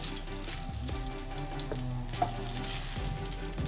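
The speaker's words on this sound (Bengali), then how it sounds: "বেগুনগুলো ভাজা হয়ে গেছে, বেশি কড়া করে ভাজিনি" Eggplant slices fry in oil in a pan with a soft, steady sizzle, close and continuous, with a few faint clinks of utensils.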